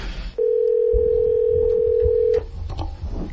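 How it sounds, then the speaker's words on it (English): A ringback tone sounds on a prank phone call to a Kmart store: one steady, unbroken electronic tone lasting about two seconds, framed by faint room noise before and after. "All right, it's ringing."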